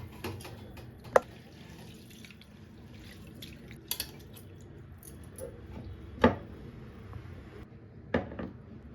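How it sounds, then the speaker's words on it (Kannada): Rice with green gram and pigeon pea lentils being rinsed by hand in water, giving faint swishing and a few distinct drips and splashes at intervals, close and quiet, with no talking. "ಇದಕ್ಕೆ ನೀರು ಹಾಕ್ಕೊಂಡು ನಾನು ತೊಳ್ಕೊತಾ ಇದ್ದೀನಿ"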